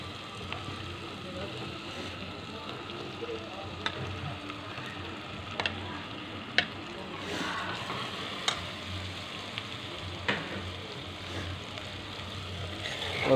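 Potatoes and pointed gourd (parwal) sizzle steadily in hot oil and masala, a faint continuous frying hiss with scattered light clicks and pops from stirring.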